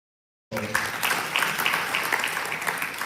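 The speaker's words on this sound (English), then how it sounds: "One more round of applause" Applause starts abruptly after a moment of silence and carries on as a dense, steady crowd of clapping for the Inspector General at a World Day of Safety and Health at Work commemoration.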